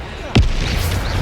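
A Bombarda spell blast in Hogwarts Legacy hits as a single sharp, loud boom, then a low rumbling tail that lingers under continuing battle noise.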